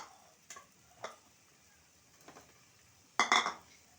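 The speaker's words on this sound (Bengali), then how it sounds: "আমি এবার ভাজা ফুলকপিগুলো দিয়ে দিচ্ছি" Fried cauliflower goes into a pan of spice masala with a few sparse metallic clinks and scrapes of utensil on pan. A quiet sizzle sits beneath, ending in a louder clatter of stirring.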